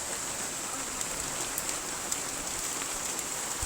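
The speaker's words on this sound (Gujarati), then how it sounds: "આ બધું ફૂલ ભયંકર વરસાદ આવ્યો છે" Heavy rain pours steadily onto surfaces outdoors, a dense, even hiss with occasional louder drops, continuous throughout and with no voices.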